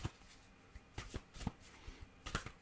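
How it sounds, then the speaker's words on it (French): Tarot cards shuffled and drawn by hand, giving a few soft, separate riffling and slapping bursts that are quiet and close, with no talking. "Je vais tirer donc 2 cartes"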